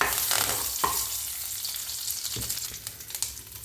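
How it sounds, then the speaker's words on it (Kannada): Mustard seeds and one or two curry leaves sizzle and crackle in hot oil for a tomato chutney, a steady broadband frying hiss with a few sharp pops and the scrape of stirring, close and without speech. "ಎಣ್ಣೆ ಕಾಯ್ದ್ಮೇಲೆ ಸ್ವಲ್ಪ ಸಾಸಿವೆ, 1-2 ಕರಿಬೇವಿನ ಸೊಪ್ಪನ್ನ ಹಾಕ್ಕೊಂಡು"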